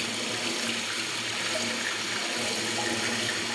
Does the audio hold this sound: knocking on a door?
no